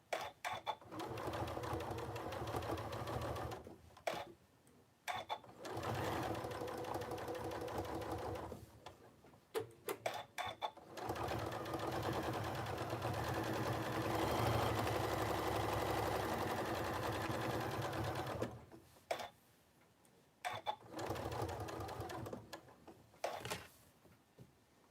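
Domestic sewing machine stitching in long steady runs, loud and close, broken by brief pauses between seams, with no talk over it.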